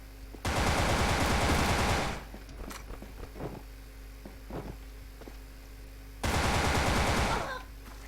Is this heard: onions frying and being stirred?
no